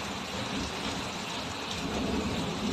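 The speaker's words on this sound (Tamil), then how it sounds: "எங்க ஊர்ல மழை பெய்யுது" Steady rain falling outdoors at a house, a dense, continuous hiss of drops heard alone and fairly close, with no voices.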